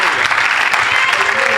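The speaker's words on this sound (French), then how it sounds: "Acclamons le Seigneur." A church congregation applauding, a dense steady clatter of many hands that fills the whole short moment at close, loud level.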